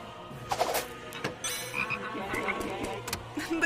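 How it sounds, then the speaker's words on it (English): A chorus of frogs croaks in steady overlapping calls, fairly faint and distant, with no voices over it. "The gay frogs."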